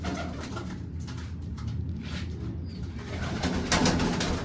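Large pigeons in a coop give soft, low cooing calls nearby, repeated over steady background noise, with the cooing growing slightly louder toward the end.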